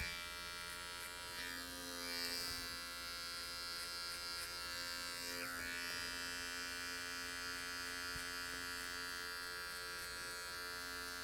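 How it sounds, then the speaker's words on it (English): Cordless adjustable electric hair clipper buzzing steadily through a skin-fade haircut, a close, continuous motor whine with slight shifts as the blades move through hair. "I really like to have a cordless clipper"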